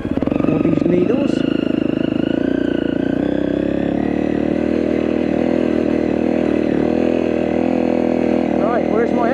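A Honda CRF250L motorcycle engine drones steadily and loud throughout while being ridden across a sheet of ice, a constant close running note with slight rises in revs and no pause.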